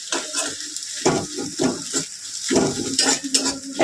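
Egg masala Maggi noodles with a cracked egg, carrot and onion fry in a pan, with a soft sizzle under repeated scraping and clinking of a utensil stirring against the metal, close and steady without talk.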